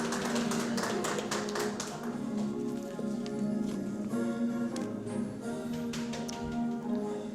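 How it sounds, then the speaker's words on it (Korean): Audience applause at an award ceremony, a dense, steady patter of many hands clapping continuously throughout, with faint background tones. "큰 박수 부탁드립니다."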